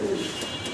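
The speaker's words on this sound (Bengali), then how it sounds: "স্ক্রিনে আমরা দেখাচ্ছি এক জোড়া কবুতর।" A pair of Garra fancy pigeons gives a short, soft, low coo, one brief burst heard close and alone with no talking.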